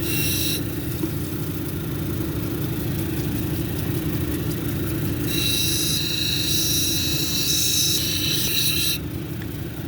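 A lapidary grinding wheel hums steadily at 220 grit while a stone cabochon is domed, a continuous whirring rumble with a bright higher grinding whine added partway through as the stone presses against the wheel.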